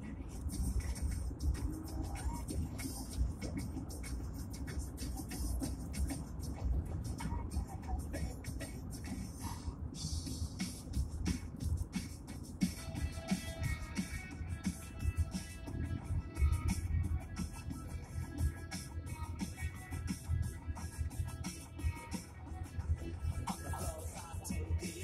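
A CN train rolls past on Cain Road, giving a steady, loud rumble and clatter that lasts throughout, with a faint voice speaking at times.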